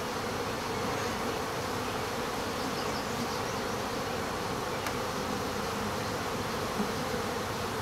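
Honey bees swarm around an open yellow hive during an inspection, their buzzing a dense, continuous drone, steady and close throughout.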